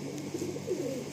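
Pigeons of the tiger line breed coo softly in a short, continuous burst, close by with a steady low murmur and no talk.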